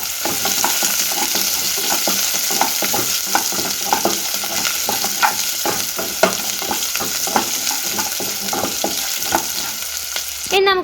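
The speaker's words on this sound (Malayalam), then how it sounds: "3 or 4 കൊച്ചുള്ളി എടുത്ത് ചെറുതായിട്ട് കീറിയിട്ട് നമുക്ക് അതും ഇതിനകത്തേക്ക് ആഡ് ചെയ്ത് നല്ലപോലെ ഒന്ന് മൂപ്പിച്ചെടുക്കാം" Urad dal and small shallots frying in oil in a pan, with a steady hiss and crackle and repeated scraping knocks of a spoon stirring throughout, no voices.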